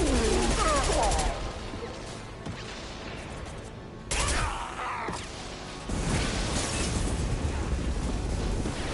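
Heavy gunfire in Mass Effect 2 comes as loud, dense bursts of shots and impacts in three clusters, with quieter rumbling stretches between them and no speech.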